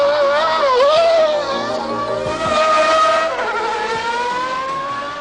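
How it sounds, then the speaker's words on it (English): Road cars corner fast on a race circuit, engines howling loudly with rising and falling pitch as they sweep through bends, close by and sustained, with faint tire noise underneath. "these cars are being cornered at speeds which would terrify even the bravest road driver"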